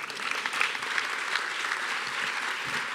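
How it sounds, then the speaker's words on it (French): A lecture-hall audience breaks into continuous applause, a thick, even wash of many hands clapping at steady loudness throughout three seconds. "après que vous ayez applaudi cette magnifique phrase"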